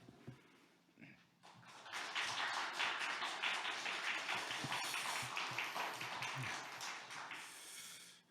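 Audience applause welcoming the founder and chairman of a school to the stage at an admissions information session, starting with a few scattered claps and swelling into a steady, dense wash of clapping that fades near the end.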